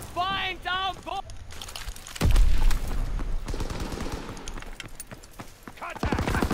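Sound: gunfire in a WW2 shooter video game

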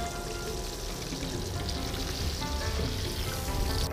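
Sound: fish frying in hot oil

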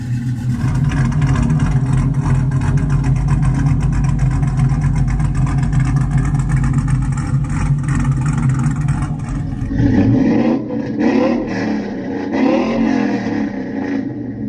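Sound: Chevrolet Silverado LS V8 exhaust with X pipe and long tube headers

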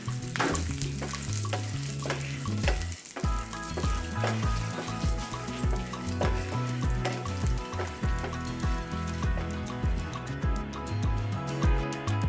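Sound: toor dal, urad dal, pepper and dried chillies stirred in pan

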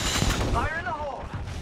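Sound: grenade explosion in the Apex Legends video game

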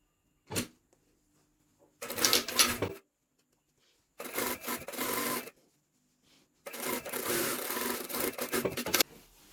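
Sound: hand stitching over a jacket sleeve lining seam

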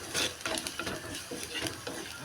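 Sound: stirring squid roast in a pan

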